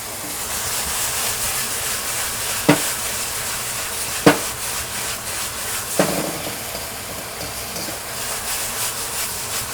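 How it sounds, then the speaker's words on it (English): Beef sears in a hot wok for a beef and tomato stir fry, a loud steady sizzle with a few sharp metallic knocks of the spatula against the wok. "We're going to sear this beef."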